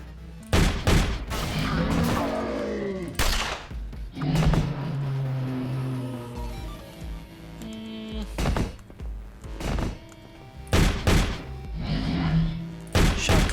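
Heavy shotgun blasts from The Pit fighting enemies, several loud, close booms spaced irregularly with a couple of quick doubles, separated by game hum and clanks.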